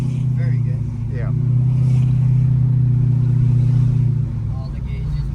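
A 1983 Chevrolet C10 Silverado short bed pickup with a 5.3L V8 and 4L60E transmission drives along with a steady low engine rumble that swells slightly. Occupants talk over it throughout.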